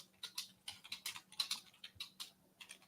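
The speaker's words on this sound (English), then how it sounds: "Loud ass keyboard." Rapid, loud clacking of a computer keyboard being typed on in a podcast room, keystrokes coming in uneven bursts close to the microphone with no talking over them.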